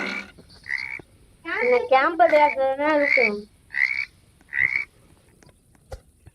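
A frog croaks in the Roblox game 99 Nights in the Forest, giving several short, close croaks in a burst, while a player talks between them.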